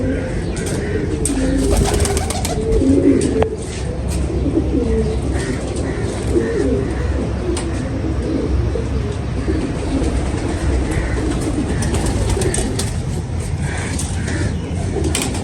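Pigeons cooing close by amid rustling and flapping, with a steady busy background; no clear talk.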